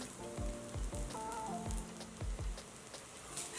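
A spiced masala rotti cooks in a pan over a medium flame, giving a steady close sizzle with soft crackles and a few light knocks and scrapes at the pan.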